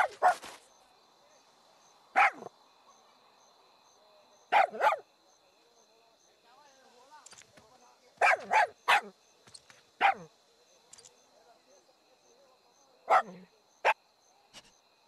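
A dog in the Far Cry 6 video game lets out a series of sharp, separate barks in short clusters, spaced irregularly over a quiet, faintly humming background.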